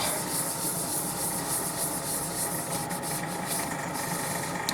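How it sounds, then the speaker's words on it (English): Coat of wood wax being rubbed onto a turned wooden piece, a continuous close dry rubbing and hiss with slight rhythmic variation. "I'm just going to put a coat of wood wax on, see what it looks like."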